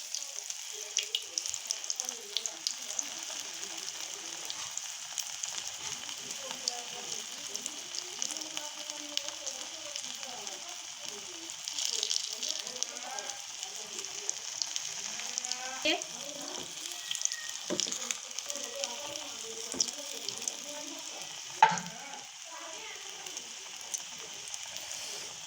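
Cauliflower tikki patties fry in a hot pan, giving a steady, close crackling sizzle throughout with scattered spatters and light scrapes, no voices.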